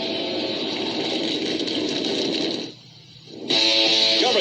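Forty ARCA stock car engines firing up on the starting grid at Daytona International Speedway for the Lucas Oil 200 make a loud, dense, rumbling roar that dips briefly, then surges back even louder with a buzzing whine.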